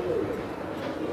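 A Kalsar pigeon from Bijnor gives a brief, soft, low coo, close by, over faint background voices.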